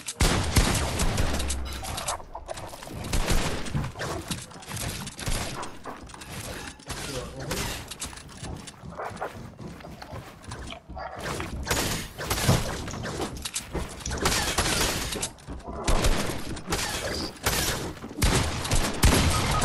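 Rapid, dense bursts of gunfire from the video game Fortnite crackle almost nonstop, loud and close, with heavy volleys clustering into sustained salvos and only brief gaps between them.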